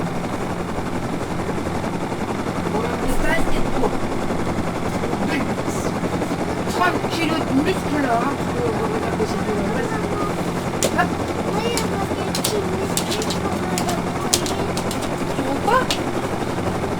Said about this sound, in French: On reprend l'hélico, direction la base